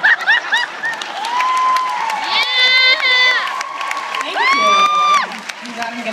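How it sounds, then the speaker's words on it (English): A live concert audience claps and cheers loudly, with whoops and high shouts rising above sustained applause, and some laughter mixed in. "Applause for this."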